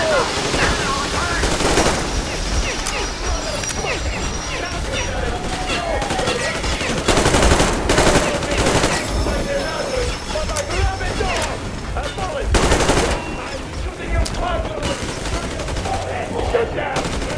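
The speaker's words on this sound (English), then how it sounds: "Fire at will!" Sustained, loud gunfire from the video game Metro Exodus, with dense automatic bursts and sharp shots overlapping continuously as voices shout over the battle.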